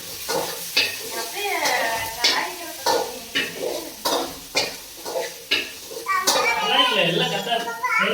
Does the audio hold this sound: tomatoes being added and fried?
yes